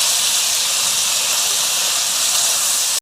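Kimchi and pork stir-fried in a hot pan give a loud, continuous, even sizzle that runs unbroken from start to finish, close and with no talking over it.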